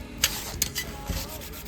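Sandpaper rubs by hand on stainless trim in quiet, scratchy back-and-forth strokes, with a few short louder swipes and soft handling noises, close by.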